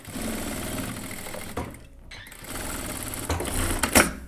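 A sewing machine runs in fast steady bursts while finishing the neckline of a felted wool coat and attaching its collar, with a short pause midway and a brief clack near the end.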